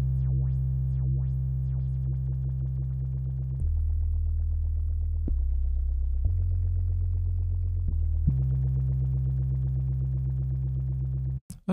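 Synthesized bass tone built in Reason with an LFO sweeping its filter, a loud sustained buzzy note that steps between pitches and changes timbre in rhythmic sections, alone, ending with an abrupt cut.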